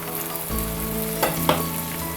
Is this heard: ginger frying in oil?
yes